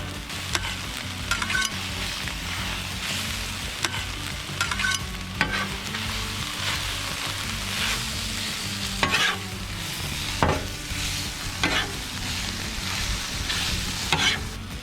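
Buffalo sauce, sour cream, cream cheese and garlic bubble on a Blackstone griddle while being stirred into a dip, a loud continuous frying hiss with repeated scraping and clacking strokes throughout.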